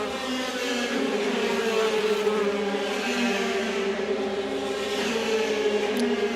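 DTM touring race cars, BMW against Audi, at the Budapest circuit, heard on board as a loud, steady engine drone with a dense buzzing harmonic tone, running continuously without pause.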